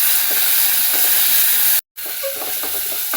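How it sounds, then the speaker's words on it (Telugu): Ginger garlic paste frying in hot oil, a loud steady hiss of sizzling close by, cut by a brief silent gap before the sizzle resumes with small crackles. "అల్లం వెల్లిపాయ పేస్ట్ పచ్చివాసన పోయేంత వరకు ఫ్రై చేయాలండి"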